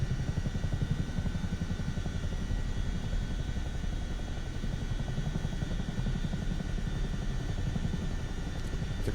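A Chinook tandem-rotor helicopter in the flight simulator MSFS 2024 hover taxis with a steady, heavy rotor chop and turbine drone, loud and constant throughout.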